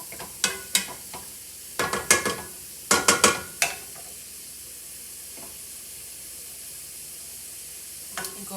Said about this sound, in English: we're going to give that a stir so that everything gets a little bit of the butter on